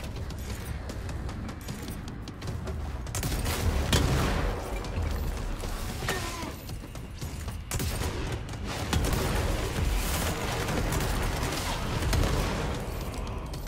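Video game gunfire rattles in repeated bursts, with loud volleys and mechanical clatter over a busy, noisy game soundscape.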